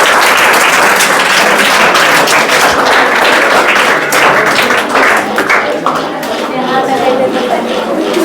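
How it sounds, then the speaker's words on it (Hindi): Children clapping for a student who scored 27 out of 27 in a Saturday class chocolate reward session, a steady dense burst of applause close by with some overlapping voices. "ताली बजा दो।"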